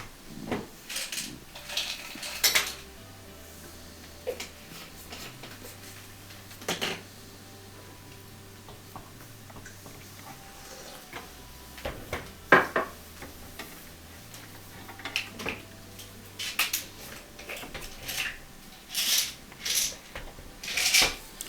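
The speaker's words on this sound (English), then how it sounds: "I can take off two Phillips head screws that are holding the old spark module in position" Phillips head screws come out of the spark module on a Viking stove, giving scattered small metallic clicks and taps close by over a low steady hum, with short pauses between bursts.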